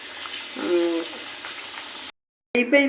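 Bitter gourd pakodi frying in hot oil over medium heat, a steady sizzle with stirring noises, cut by a brief silence before the sizzle returns louder.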